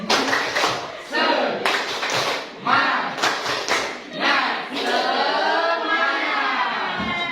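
A group of children claps in bursts of quick rhythmic patterns with short pauses between, loud and close, with lively voices chanting along in Indonesian.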